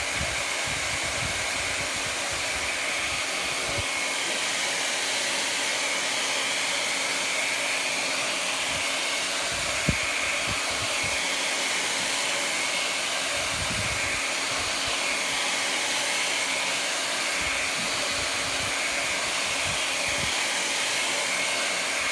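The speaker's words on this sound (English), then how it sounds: "The handy dandy hair dryer again." A handheld hair dryer blows steadily and loudly for the whole stretch, a constant broadband whoosh with no pauses, used to dry chalk paste on a craft stencil project.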